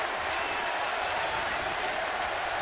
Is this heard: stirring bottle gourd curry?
no